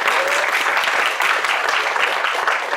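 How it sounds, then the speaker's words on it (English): Applause from an audience at an evening devotional program, dense steady clapping held at an even level through the whole stretch with no voices above it. "Please give them a round of applause."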